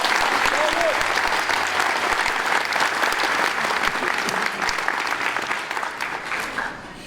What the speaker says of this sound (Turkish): Tekrar yürekten alkışlıyorum sizleri.